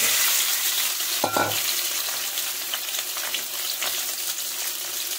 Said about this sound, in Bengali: একটুখানি জিরে ফোড়ন দিলাম, দিয়ে বন্ধুরা আলুগুলো দিয়ে দিলাম।